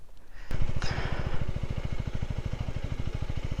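A motorcycle engine runs on a high, stony Himalayan mountain pass near 5000 m in snowy, bad weather, putting out a close, steady fast thudding after a sharp start, with no talk.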